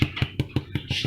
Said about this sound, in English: Does that sound kind of hollow to you?